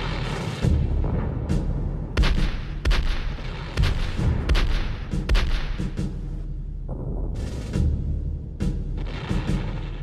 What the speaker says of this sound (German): Nur alle 3 Stunden kann die Faule Grete feuern und 36 Pferde müssen sie in ihre Stellung ziehen.